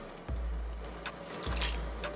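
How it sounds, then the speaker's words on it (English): Tap water runs into a cooking pot while vegan Jamaican jerk beef patty filling is prepared, a steady splashing stream with two brief surges, close and alone with no talk. "I'm gonna add this much more water."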